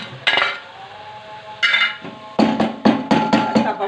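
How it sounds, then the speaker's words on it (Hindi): Fried okra tipped into a pot of cooked mutton, a series of sharp metallic clinks and scrapes of a utensil against the pot, close and clear, with short pauses between strikes. "अब हम इसमें अपनी भिंडी जो फ्राई की हुई थी वो डाल देंगे।"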